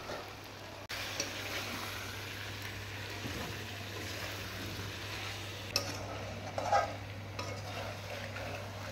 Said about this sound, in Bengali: বন্ধুরা মাংস একদম ভালো করে কষিয়ে নিয়েছি, এই দেখুন।